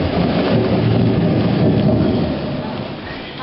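A thunderstorm rolls on with steady, dense rain and low rumbling thunder, loud and continuous throughout with no voices over it.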